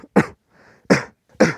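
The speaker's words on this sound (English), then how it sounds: "I'm going to cough into my arm." Three sharp, muffled coughs into an arm, evenly spaced and close, with a softer breathy sound between the first and second.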